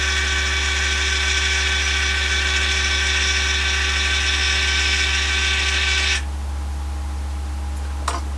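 A Yaesu G-1000DXC antenna rotator turns with a steady, close electric motor whine, then stops abruptly after about six seconds, leaving a low background hum and a faint click.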